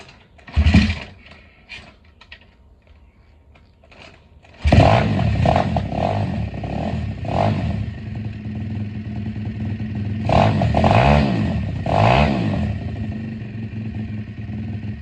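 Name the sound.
SSR 170 pit bike engine running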